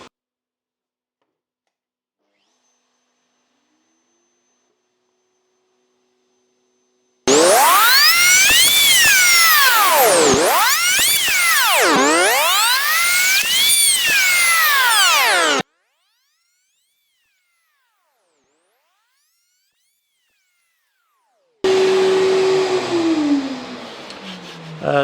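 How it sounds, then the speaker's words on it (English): A router cutting a rebate through West Indian cedar, making two loud bursts of high whining motor tone that rises and falls as it bites into the wood, separated by silence. "I've got my router set up here, all good to go. We'll just take 2 cuts through the whole lot,"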